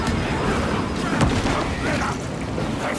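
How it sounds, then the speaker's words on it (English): Shock grenade going off in Warhammer 40,000: Space Marine II, a dull boom with a crackling burst buried in dense battle noise and rumble, under a spoken voice. "Shock grenade deployed."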